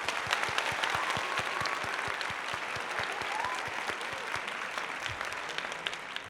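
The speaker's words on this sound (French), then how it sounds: "on peut s'applaudir." Applause from a French audience greeting an entertainment news show host, steady dense clapping that runs throughout, with a few sharper single claps standing out near the front.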